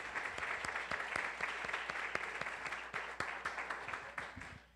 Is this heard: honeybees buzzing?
no